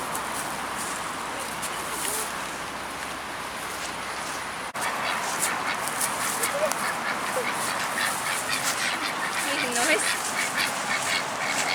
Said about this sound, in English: There's this one wagging his tail as Ray feeds the ducks.